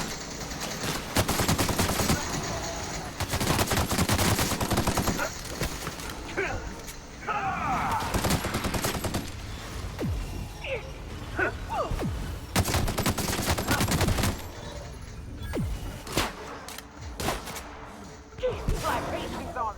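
Assault rifle fire in The Outer Worlds comes in repeated rapid bursts, loud and close, separated by short pauses across the stretch, with a few scattered impacts and voices in between.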